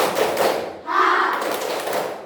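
Classroom children clap a counted pattern of quick hand-clap bursts, close and busy, with a short voiced pause between groups of claps.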